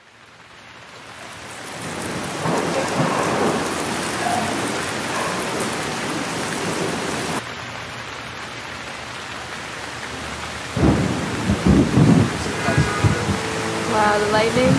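Steady rain falls through a thunderstorm in India, a dense wash that fills the whole clip, with deeper rumbling swells of thunder and a louder burst near the end; a person speaks faintly beneath it.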